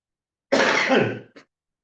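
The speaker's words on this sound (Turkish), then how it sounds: "Gıcık yaptı. Öksüreceğim." A single harsh throat-clearing cough, close and loud, lasting under a second, followed by a short softer rasp.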